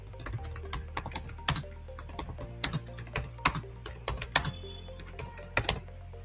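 Markdown being typed on a computer keyboard while writing API documentation: a steady run of close, distinct key clicks with a few louder strokes and pauses, no voice.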